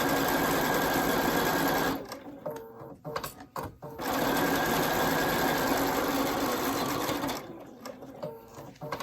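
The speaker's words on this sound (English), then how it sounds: "I'm sewing a 3/8 inch seam allowance up top." A sewing machine runs close and loud while sewing a 3/8 inch seam allowance on a welted zipper pocket. It hums steadily, pauses briefly twice with short clicks and handling noise, then resumes.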